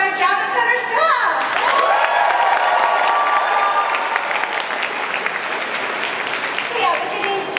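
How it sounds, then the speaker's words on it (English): Audience applause and cheering fill a large hall at the Anime NYC 2017 Sailor Moon panel in the Javits Center, a dense, sustained crowd roar with scattered whoops that holds steady throughout. "let's give a big round of applause to our Javits Center staff!"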